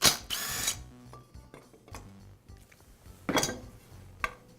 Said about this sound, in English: Now I'll remove the screw